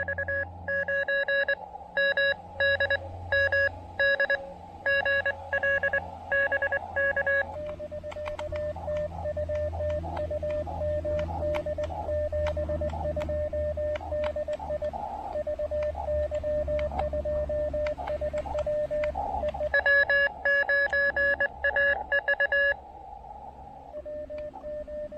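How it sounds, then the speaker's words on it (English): An amateur radio station receives another operator calling CQ in Morse, with repeated bursts of beeping tones keyed over a steady carrier tone and low radio noise, recorded outdoors in a park. "I can hear somebody in the background calling CQ."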